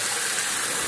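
Water gushing hard from an opened tap fed by an automatic flow-switch pump, a steady broadband rush for under a second with no talk over it.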